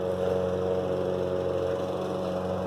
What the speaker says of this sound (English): Neighbor's gonna start mowing.